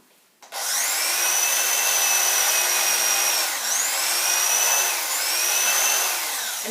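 An electric cutter trims the crusts off sandwiches, starting with a click and then running as a loud, steady whine close by, dipping in pitch twice as it bites through the bread.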